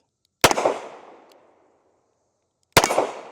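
Two loud, close gunshots from a Smith & Wesson 640 revolver, spaced about two seconds apart, each with a sharp crack and a ringing outdoor decay, with no talking.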